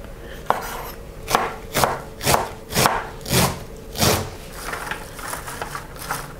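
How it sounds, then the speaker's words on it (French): A knife chops mushrooms on a cutting board in a professional cooking setting, producing about eight evenly spaced, crisp thuds in a steady rhythm, close and clear, with no voices. "Je commence par tailler mes champignons."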